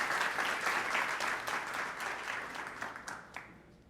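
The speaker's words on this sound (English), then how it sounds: "give the biggest round of applause for our guest, Prince Sultan" Sustained audience applause fills a conference hall for a royal guest, dense and even clapping that holds steady for nearly four seconds and tapers slightly toward the end.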